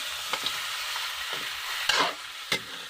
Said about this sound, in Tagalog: Gisa natin ito ng maayos guys.